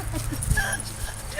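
A playful dog gives a brief whimper and yip during an energetic game of dog baseball. The sound is short and close, over background noise from the game.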